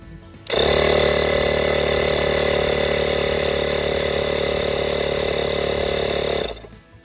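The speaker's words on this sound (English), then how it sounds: "turn the air compressor on" An air compressor runs steadily at close range while inflating a motorbike tyre through its valve stem after puncture sealant, a loud even mechanical hum that starts abruptly, holds for about six seconds and cuts off.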